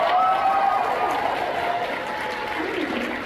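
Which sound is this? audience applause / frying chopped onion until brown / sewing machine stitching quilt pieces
audience applause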